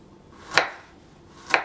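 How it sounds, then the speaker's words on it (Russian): A knife chops through carrot on a cutting board while vegetables are prepared for Mediterranean cod: two crisp, close cuts about a second apart, with quiet between and no talk. "Морковь. Ух ты. Режем также."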